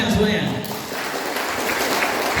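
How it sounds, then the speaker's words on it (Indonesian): Applause from a crowd of guests gathered for the opening of a martial arts training session, a steady dense clapping that runs the full length with some voices mixed in. "Tepuk tangan semuanya"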